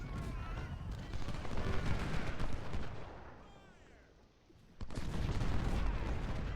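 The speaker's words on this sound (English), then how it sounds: "I think this is just artillery exchanging fire" Artillery fire exchanged during a Civil War battle at Antietam's Burnside's Bridge in the Ultimate General Civil War video game: a dense, continuous rumble of booming shots that thins briefly, then surges back loud.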